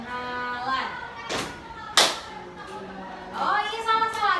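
Children performing a "tepuk perkenalan" introduction clapping game in a group guidance session, with a couple of sharp claps standing out among children's voices and speech.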